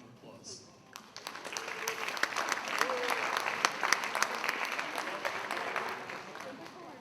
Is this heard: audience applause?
yes